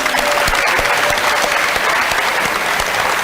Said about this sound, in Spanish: Entonces un aplauso para Sergio.